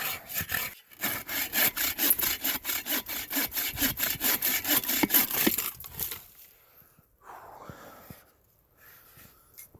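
Hand saw cutting through alligator juniper wood outdoors, a steady run of rhythmic back-and-forth strokes for about six seconds, fairly close and loud, then stopping into quieter rustling.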